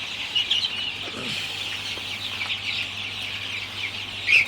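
A group of young chicks in a poultry house peep and chirp continuously while drinking water on a hot, humid day, a dense high-pitched chatter close by.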